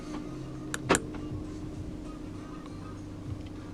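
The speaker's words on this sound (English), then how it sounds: "Electronic central locking." Central locking on a 2016 Audi A5 Sportback 2.0 TDI quattro S line: two quick mechanical clunks close together, a sharp clack and then a louder thunk, over a quiet cabin hum.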